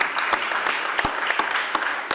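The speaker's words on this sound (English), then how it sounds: "let's help me give Jeffrey Sachs a round of applause" An audience at a sustainable cities event applauds for a guest, with steady dense clapping and a few sharper close claps, sustained throughout with no voices on top.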